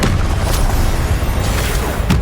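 A heavy magical slam from the Descendo spell lands in a Hogwarts Legacy boss fight, a deep booming thud within a continuous loud, crowded wash of combat noise.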